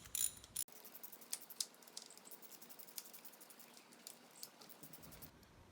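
A ratchet working valve cover bolts on a Kia Rio engine, giving a quiet, close series of fine clicking ratchet strokes with small metallic taps, with no one speaking.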